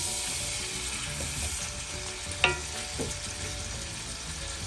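Sliced onions fry lightly in oil in a pan for arvi gosht: steady broadband sizzle with a brief utensil scrape or clink midway, close and fairly quiet, with no talk.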